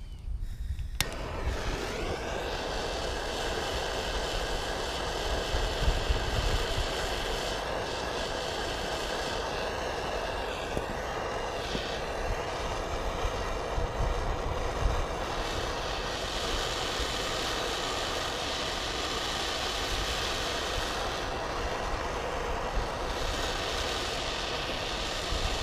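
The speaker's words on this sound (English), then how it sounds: "with this torch is I'm going to go ahead and heat it up and burn off any residue oil" A torch roars steadily at close range, heating metal on a Cub Cadet LTX 1040 lawn tractor to burn off leftover oil, a continuous broadband rushing hiss that holds for the whole stretch with slight wavering.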